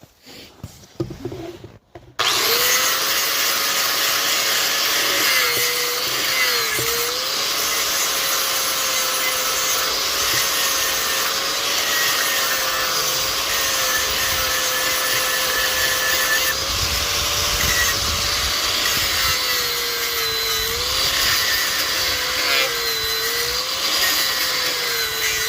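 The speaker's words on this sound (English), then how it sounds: "Grind down that weld a little more just to get it a little flatter" Grinder smoothing down a weld on a broken snowblower part, a loud sustained whine with a wavering steady pitch after a brief clatter at the start, close and continuous without speech.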